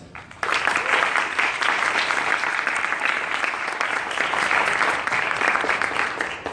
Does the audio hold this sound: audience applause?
yes